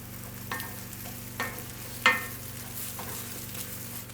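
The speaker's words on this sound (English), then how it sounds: "You can hear that sizzle, that means your pan is hot." Matzo brei fries in a hot pan with a quiet, steady sizzle, broken by a few soft stirring scrapes and taps spaced about a second apart, no talking.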